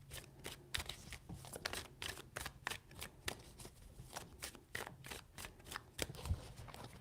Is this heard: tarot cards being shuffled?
yes